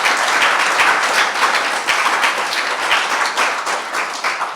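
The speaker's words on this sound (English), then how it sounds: "Well-deserved applause." Audience applause at the closing of a BILT bridging event, a full room clapping loudly and continuously, fading slightly toward the end.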